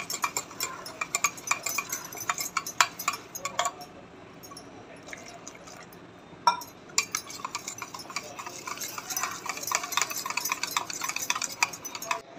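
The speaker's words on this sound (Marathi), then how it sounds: "छान प्रकारे बेसन मिक्स करून घेऊ" A spoon scrapes and clinks against a bowl as gram flour (besan) is stirred for taakachi kadhi, with irregular light taps and scrapes at close range and no voices.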